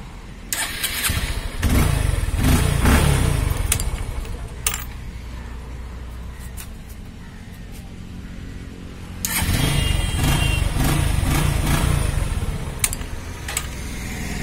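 A Hero motorcycle being started with its self starter, loud close starter bursts catching into a revving engine, then a quieter idle and a second start-and-rev sequence.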